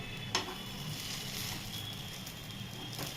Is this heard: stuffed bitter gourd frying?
yes